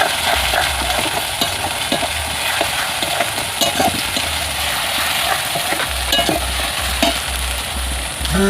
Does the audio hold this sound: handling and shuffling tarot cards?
no